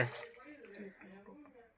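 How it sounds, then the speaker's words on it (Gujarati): Water pours into a pressure cooker over small potatoes for boiling, a steady splashing stream partly under a voice speaking throughout. "એક જે આપણે બટેટા ડૂબે એટલું પાણી નાખી દેવાનું"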